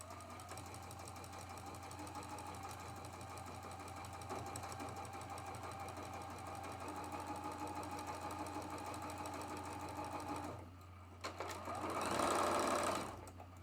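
A sewing machine stitches quilt block fabric steadily with a fast, even mechanical whir and rattle, close up, then slows and stops with a brief higher buzz.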